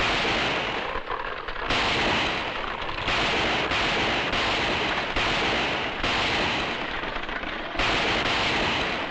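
Gunfire from a western shootout, with dense bursts of shots and booming reports that overlap almost continuously, loud and harsh with brief lulls between volleys.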